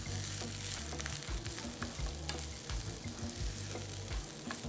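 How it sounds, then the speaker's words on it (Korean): Vegetables stir-fry in a hot pan for a spicy chicken rice bowl, giving a steady, dense crackle and sizzle like rain that runs throughout, with a rhythmic musical bed underneath. "이렇게 타다닥 타다닥 비 오는 소리 같은 소리가 들리면 잘 볶아지고 있는 거니까"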